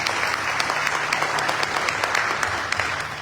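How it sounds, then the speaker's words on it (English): Audience applause for Sabrina at a Navaratri gathering in a Hindu temple hall, steady dense clapping from a crowd throughout, fairly loud and close, with a faint low hum underneath and no talking. "So big round of applause for her."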